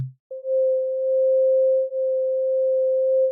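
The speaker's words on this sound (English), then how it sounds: "And now to this here, this is a higher note" A higher synth pad note built in Bitwig's Grid holds as a pure, steady sine-like tone for about three seconds after a brief lower blip, alone and fairly loud.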